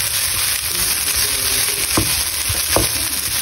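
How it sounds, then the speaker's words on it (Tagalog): Enoki mushrooms frying in a hot pan, a loud, steady close sizzle with a few soft scraping taps of stirring partway through, no voices. "magluluto ako ng enoki mushroom"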